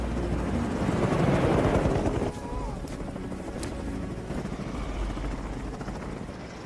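A helicopter in an action film's evacuation scene gives a loud, close, continuous rotor roar with a rapid thumping pulse. It swells over the first two seconds, then drops to a steady drone with faint indistinct voices underneath.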